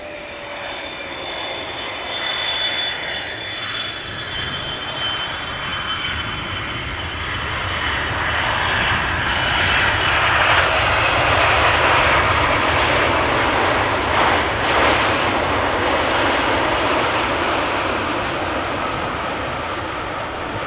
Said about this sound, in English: let's see and listen how the Air Canada 777 is touching down